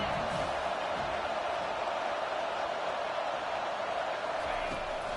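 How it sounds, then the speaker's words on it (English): A stadium crowd in an American football video game roars behind the defense on a third down, a dense, steady wash of cheering that holds at an even level throughout. "Decibels rising as the crowd gets behind this defense on 3rd down."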